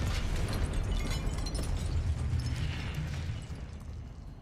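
Confringo blasting spell explosion in Hogwarts Legacy, a sustained, loud rumbling blast with dense low-end roar that holds steady for several seconds before slowly tapering off.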